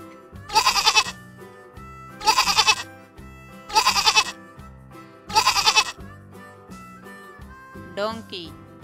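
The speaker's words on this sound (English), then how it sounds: "Goat." A goat gives four loud, wavering bleats, evenly spaced with pauses between them, followed by a short burst of a different voice-like sound at the end.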